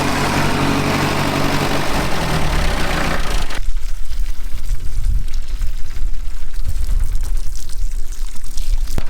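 A farm tractor with a water tank idles low and steadily while a loud rush of pouring water fills the first few seconds during watering, then the engine hum continues alone.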